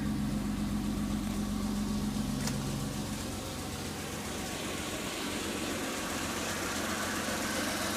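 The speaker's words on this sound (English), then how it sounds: "I think it's got a little bit of an exhaust leak." A 1993 Chrysler Town & Country minivan idles after a cold start on a very cold day, running rich with a slight exhaust leak, giving a steady, dense engine drone that stays even throughout with no talking.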